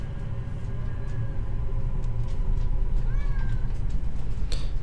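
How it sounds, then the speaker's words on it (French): A small house cat meows a few times, fairly close, over a steady low rumble of background noise, with no talking. "Ah, attends, j'ai un petit chat."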